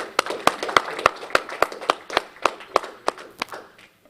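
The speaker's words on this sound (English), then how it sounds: "So another round of applause for Mr." Applause at a congressional briefing at the US Capitol comes as a short, sparse round of about a dozen sharp, evenly spaced claps that taper off within four seconds.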